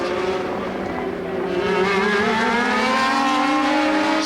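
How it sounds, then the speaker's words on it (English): 1981 Formula 1 race cars pass at speed late in a Grand Prix, a loud, continuous engine whine with rising and falling pitch sweeps as the cars close up and overtake, filling the whole stretch. "Closing up on Rosberg in the white car, Villeneuve, and he's passed."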